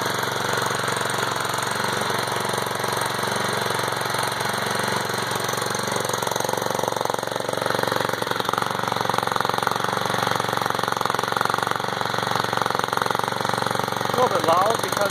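A Predator 173cc gasoline engine on a Snapper RT5 tiller runs steadily and loudly nearby, its exhaust hitting the front guard, with a rough, rattling drone that holds even throughout.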